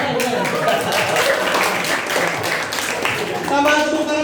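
Applause and clapping from an audience at a final round of a school quiz competition, a dense, steady patter that holds loud throughout, with voices mixed in.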